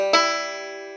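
A single bright plucked banjo note rings out and sustains, a bluegrass open second-string hammer-on with a pinch, decaying cleanly on its own.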